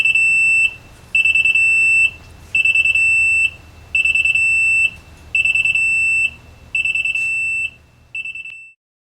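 Security alarm on an AVW 400 machine sounds a loud, piercing steady tone in seven repeated pulses of roughly a second each, separated by brief gaps, with a shorter final burst before silence.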